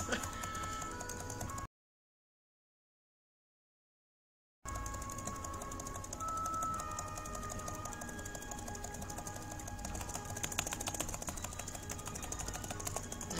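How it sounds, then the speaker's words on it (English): Rapid computer keyboard clicking while paging through on-screen text in the game Ulysses, a dense stream of clacking keys close up, broken by a few seconds of silence. "It probably sounds like I'm banging on the keyboard with a hammer"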